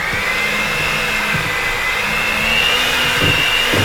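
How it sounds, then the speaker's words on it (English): Electric hand mixer blending peanut butter cookie dough, a steady, close whine with faint periodic thumps from the beaters moving through the dough. "I'm using a hand mixer versus a stand mixer,"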